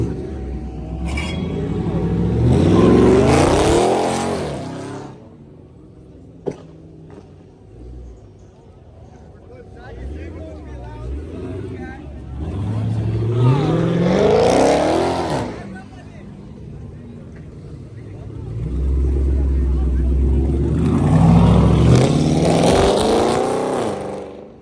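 A Dodge Hellcat accelerates away loudly at an exotic car meet, with three separate surging engine pulls rising and fading across the stretch, and people talking between them.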